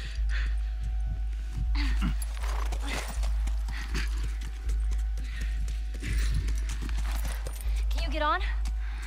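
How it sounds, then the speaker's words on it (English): Horse hooves clip-clop at a steady walking rhythm in The Last of Us Part I, close and fairly loud over a constant low engine-like drone, with a brief whinny-like call near the end. "Just get the horse."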